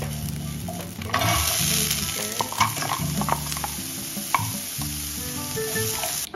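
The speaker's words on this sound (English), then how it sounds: "And then we're gonna add the sauces and mix them all together to make a nice fried rice." Fried rice stir-fried in a hot pan with sauces added: continuous sizzling with rhythmic scraping and tossing of a spatula against the pan, close and steady, no talking.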